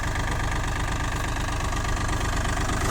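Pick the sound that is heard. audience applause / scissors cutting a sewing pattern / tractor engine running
tractor engine running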